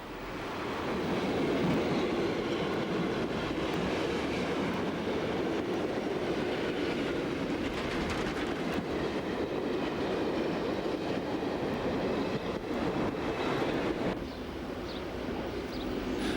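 A train hauled by an older Swiss mainline locomotive rolls past at Rorschach Harbour, a steady loud rumble and clatter of wheels lasting throughout and easing slightly near the end, with no talk.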